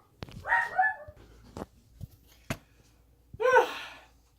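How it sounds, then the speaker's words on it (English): A dog barks a few sharp times close by in a garage during car repair work, with quiet pauses and faint thuds between the barks. "Dog's interrupting me."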